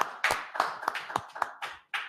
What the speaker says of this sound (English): Get a Lord a hand clap.